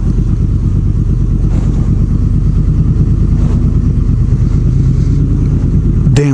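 A Honda VFR800 motorcycle engine runs steadily near a historic train station in Flagstaff, Arizona, a loud, close, even low rumble with a sharp knock at the very end.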